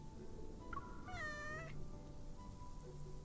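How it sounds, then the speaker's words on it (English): A cat meows once in a video game, a clear rising-and-falling call standing out over a steady low ambient background of game music and room tone. "The cat hops onto his shoulder and rubs against him as though they are familiar with each other."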